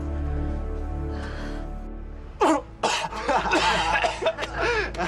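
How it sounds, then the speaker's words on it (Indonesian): A person coughs in an Indonesian TV drama scene, a short burst of harsh coughs and throat clearing after a quiet stretch, close and fairly loud. "Batuk."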